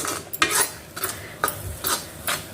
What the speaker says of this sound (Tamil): இது நல்லா வந்து கிண்டி விடணும்.